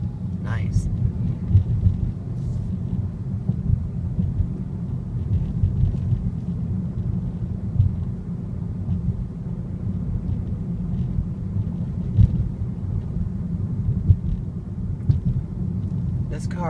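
A 2014 VW Jetta 1.8T SE's turbocharged engine launches aggressively off the line, a low, steady, heavy rumble from inside the cabin with faint speech at the edges.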